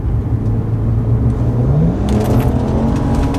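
BMW 335i with N54 engine and catless downpipes accelerating hard from about 30 mph in sport mode, a loud, steady droning exhaust note rising in pitch throughout with no talking.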